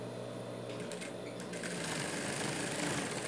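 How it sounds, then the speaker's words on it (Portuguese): A sewing machine runs continuously while stitching a dog bandana, producing a steady, close mechanical hum and rapid needle rattle without pause. "vou costurar"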